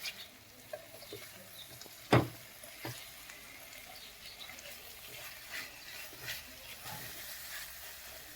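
Two spoonfuls of green chili paste fry in a pan over low flame with a soft, faint sizzle, broken by one sharp clank of a utensil and a few light stirring scrapes.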